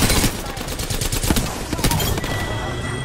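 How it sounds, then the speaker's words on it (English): Rapid bursts of gunfire from an Apex Legends ranked match, loud and dense, with sharp overlapping shots crackling throughout and a faint voice underneath. "Oh, I'm getting shot back."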